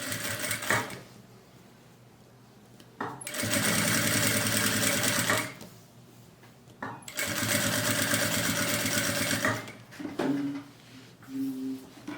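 Sewing machine stitching bias binding onto clear crystal plastic: two long, steady runs of rapid motor-driven stitching, each a few seconds long, separated by quiet pauses, with brief handling sounds at the end.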